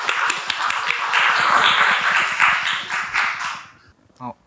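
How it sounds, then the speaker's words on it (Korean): A hall audience at a 2028 university admissions forum claps to welcome a first-year middle school student, dense steady applause that thins out and fades, followed by a brief voice at the end. "저희 이슬현 학생을 위해서 큰 박수로 모시겠습니다"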